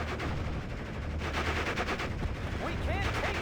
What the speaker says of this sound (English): God, those damn mortars.